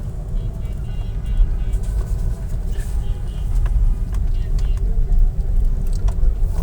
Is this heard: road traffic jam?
yes